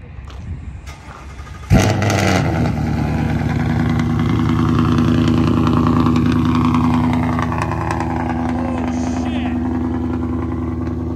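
A Ford Mustang GT fitted with Corsa Performance headers cranks and fires up with a sharp bang, then settles into a loud, steady, throaty idle that swells with light revs before easing back, close by.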